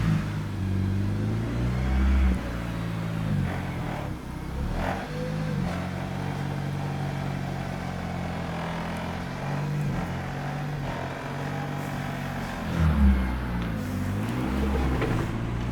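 A K-swapped Honda Civic EG idles and is eased backward, its engine holding a steady low rumble with a couple of brief revs rising near the start and again toward the end, close by with no talking.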